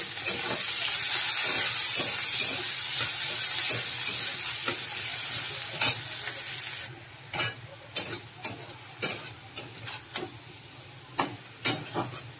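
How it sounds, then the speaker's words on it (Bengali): Chopped onions fry in oil in a kadai, first a dense continuous sizzle, then the hiss thins while a spatula scrapes and stirs in repeated sharp strokes, close and clear with no voices. "পেঁয়াজটা লাল করে ভেজে নিচ্ছি।"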